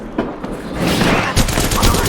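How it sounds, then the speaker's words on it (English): Sustained automatic gunfire from the battle royale game Apex Legends, a loud continuous rattle that builds after a brief lull, with a voice talking over it. "Opening fire."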